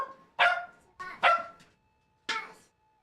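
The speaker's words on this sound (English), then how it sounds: "Dogs. Dogs." Indoor dogs bark close and loud, with four sharp barks in an uneven rhythm: two quick ones, a pause, then a single last bark, with little else around them.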